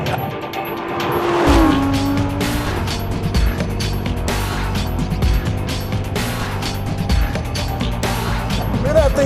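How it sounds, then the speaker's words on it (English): A Lamborghini Huracan LP 610-4 revs and accelerates hard, its engine loud and rising through sustained pulls with a brief tire squeal early on, while people talk over it. "Look at that thing put power down."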